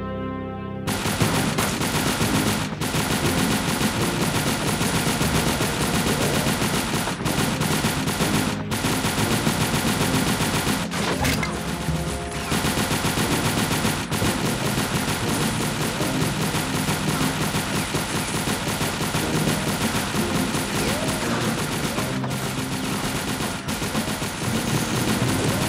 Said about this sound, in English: Firing this SMG on full automatic probably isn't the best way to hit these long-range targets